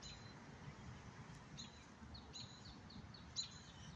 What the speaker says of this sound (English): Listen to the birds in the cemetery here.